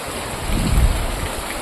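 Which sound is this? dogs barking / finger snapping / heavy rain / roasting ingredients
heavy rain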